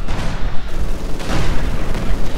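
Rumbling, booming gunfire and explosions from a Company of Heroes 2 battle as an Su-85 tank fires, with dense overlapping blasts and no voices.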